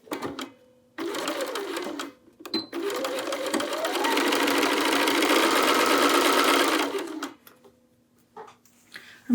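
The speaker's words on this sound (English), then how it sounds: "I'm just gonna start sewing." A sewing machine fitted with an edge stitch foot starts and stops in short runs, then settles into a long, steady whirring stitch before halting, with quiet handling noises in the gaps.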